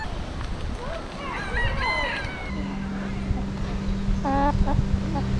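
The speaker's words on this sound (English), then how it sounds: "They're following you. Come on, mother hen." Chickens cluck and squawk nearby on Maui in short bursts, with background chatter and ambient noise around them.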